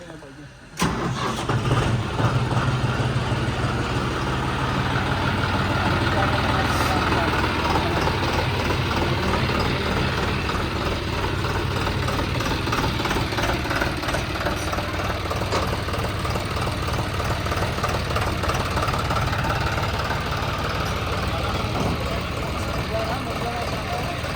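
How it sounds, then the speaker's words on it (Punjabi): A tractor engine starts up, then keeps running with a loud, throbbing rumble throughout as people talk over it. "ਟਰੈਕਟਰ ਲੈ ਕੇ ਚਲੇ ਜਾਊਗਾ"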